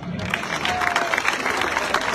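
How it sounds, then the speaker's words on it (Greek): Applause from a crowd at the start of a running race in Tripoli, Greece, a dense, steady clapping that fills the whole moment at close range, with some voices mixed in. "Χειροκρότημα."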